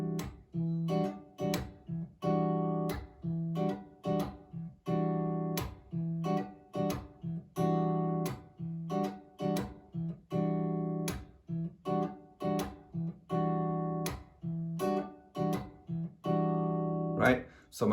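Guitar playing an easy groove, the thumb holding the bass notes while the fingers pluck the chords in a steady, repeating rhythm, heard alone at moderate volume.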